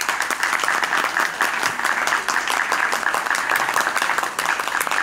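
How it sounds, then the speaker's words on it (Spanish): Sustained audience applause at a Spanish-language lecture on José Martí's poetry, many hands clapping densely and steadily at moderate loudness for the full stretch, with no speech over it. "don Orlando Rodríguez Sardiña, que quisiera un aplauso para él"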